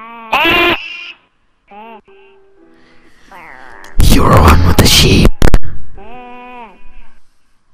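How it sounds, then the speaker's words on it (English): A Minecraft sheep from the video game bleats a few short times, loud and close, with bursts of noisy play and talking voices in between. "I just heard a Minecraft sheep."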